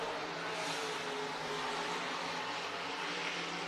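Stock cars racing around the dirt oval at Crawford County Speedway, a steady, distant engine roar that holds without a break for a few seconds.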